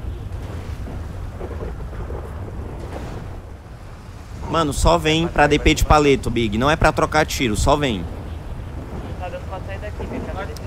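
Steady rain hisses through a GTA roleplay scene, a continuous wash of noise with low rumbles underneath, while someone talks loudly over it partway through.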